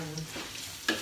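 Food being sautéed in a pan with garlic, onion, ginger and chili, a soft sizzle and stirring scrape heard up close, ending in one sharper clack of the utensil.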